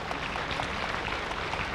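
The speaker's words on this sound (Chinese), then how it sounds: "掌声鼓励" A large audience applauds during a donation ceremony at a Long Life Buddha homa gathering led by Living Buddha Lu Sheng-yen, with a steady, dense wash of clapping and no break for the brief moment.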